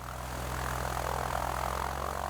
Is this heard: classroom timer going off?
no